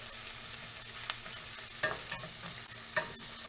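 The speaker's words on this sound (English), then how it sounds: "We're gonna cook this until our onions are translucent." Bacon, onion and garlic frying together in a pan produce a continuous soft sizzle, with a few gentle stirring scrapes rising above it now and then, close and without talk.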